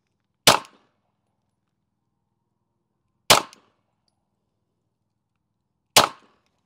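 Three sharp 9mm pistol shots fired from a DR920L with 147-grain HST standard-pressure loads, each a sudden crack with a short decay, spaced roughly three seconds apart with silence between.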